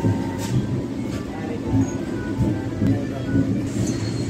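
An MMTS commuter train pulls slowly out of Hafeezpet station with a steady low rumble and faint clanks, while a person talks over it throughout.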